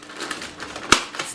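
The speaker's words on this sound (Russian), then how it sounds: "степлером скрепляю" A single sharp stapler click punches through parchment paper wrapped over meat, one brief crisp snap amid soft rustling and crinkling of the paper.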